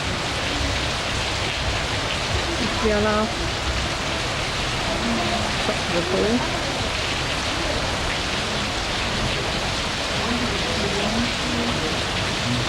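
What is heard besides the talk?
rain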